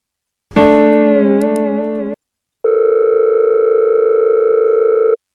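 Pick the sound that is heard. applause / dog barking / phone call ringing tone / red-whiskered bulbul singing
phone call ringing tone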